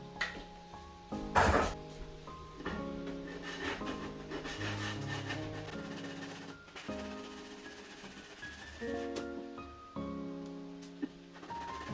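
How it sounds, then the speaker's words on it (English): A sanding pad rubs back and forth over wood, sanding off glue in repeated gritty strokes, close up, while soft tonal music plays underneath. "I'm just going to get a sanding pad and just gently sand it off."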